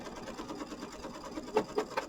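Kimberbell embroidery sewing machine stitching a fabric tack-down line for a mini quilt, a quiet rapid mechanical chatter with rhythmic needle pulses and a few louder clicks, heard alone.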